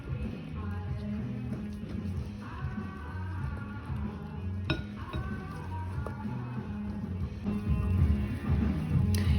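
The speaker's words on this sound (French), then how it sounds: "on va mélanger la farine petit à petit pour ne pas faire de grumeaux" A spoon works flour into cookie dough in a bowl, producing repeated clinks and scrapes against the bowl's side in an irregular stirring rhythm, close and fairly loud, with one sharper knock partway through.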